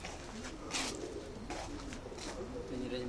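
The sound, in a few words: racing pigeon cooing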